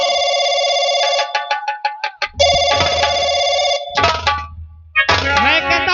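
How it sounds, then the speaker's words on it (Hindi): An old-style telephone bell rings loudly in a tense film scene, trilling in several insistent bursts with short gaps and some rumbling movement between rings. "फोन उठा बे, फोन।"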